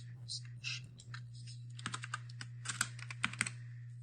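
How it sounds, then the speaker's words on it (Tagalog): Keys clicking on a PC keyboard as a search term is typed, a quick burst of sharp, close taps after a pause, over a steady low hum. "dito sa search, i-type ang Minecraft"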